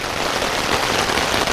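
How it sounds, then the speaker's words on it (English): Rain falls steadily in the wilderness of Quetico Park in northwestern Ontario during a kayak trip, a dense, even hiss of drops pattering on surfaces close by with no other sounds. "Now, as you can hear, it's raining."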